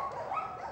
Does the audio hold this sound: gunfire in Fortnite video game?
no